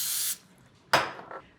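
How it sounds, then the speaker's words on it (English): Vegetable cooking spray hisses from an aerosol can into a small glass bowl in two short bursts, the first steady and sustained, the second sharper and fading, close and clear. "spray a small glass bowl with vegetable spray and line with plastic wrap"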